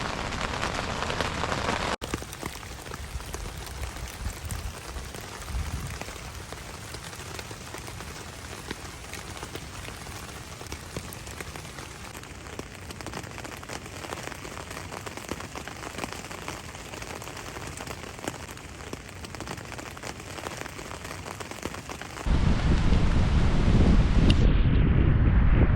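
Steady rain patters on a surface close by at a campsite, a dense continuous hiss, with a louder gusty rush of wind near the end.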